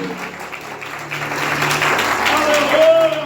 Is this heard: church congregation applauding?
yes